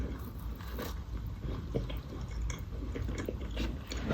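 Someone bites into and chews a Turkish marshmallow snack, making soft, squishy, faintly crunchy mouth sounds up close. The chewing sits low beneath a steady background hiss.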